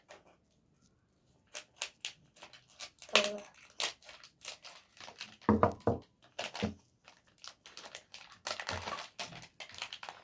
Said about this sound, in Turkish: İlk önce makasla keselim.